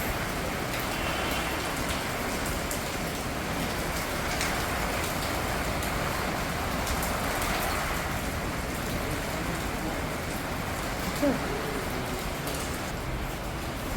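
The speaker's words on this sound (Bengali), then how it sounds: "বৃষ্টি হচ্ছে।" Heavy rain pours down during a storm, a dense, loud, unbroken roar of drops on surfaces lasting throughout, with a faint distant vehicle murmur underneath and no voices.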